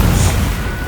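A Confringo fire-blast spell explodes in Hogwarts Legacy as one loud, deep boom that rolls out and slowly fades within a second.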